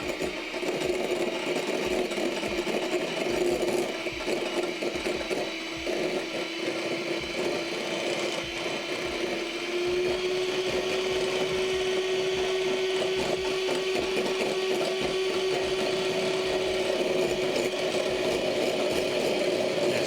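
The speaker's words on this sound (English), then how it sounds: "we're just going to combine these, whisk until it forms a gel" A mixture with boiling water whisked into a smooth gel, a fast rhythmic scraping and tapping of the whisk against the bowl that carries on steadily throughout, over a constant humming tone.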